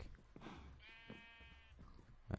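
A Minecraft sheep bleating once, a quavering, wavering baa that carries under faint background noise and ends with a soft thump.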